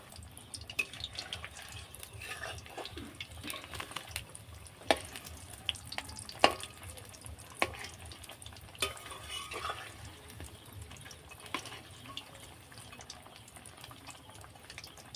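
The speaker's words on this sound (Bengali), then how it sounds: "যতগুলো ধরেছে ততগুলো দিয়ে দিয়েছি, এবার ভেজে নেব।" Cauliflower chops fry in hot oil, a faint, steady crackling sizzle dotted with small pops and occasional clinks, close by and with no one speaking.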